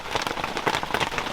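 Brief burst of rain falling outdoors near a car, a dense close patter of drops hitting surfaces with no talking.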